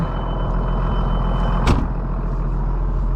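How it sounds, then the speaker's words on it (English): A farm tractor idles while warming up on a snowy day, a steady low diesel rumble running throughout with a short hissing burst midway, close and fairly loud, with no talking. "Well, my tractor warms up here."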